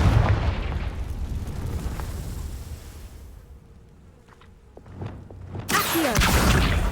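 Confringo fire spell cast in the video game Hogwarts Legacy, a low rumbling boom that fades, then a sharp bright burst of fiery noise near the end.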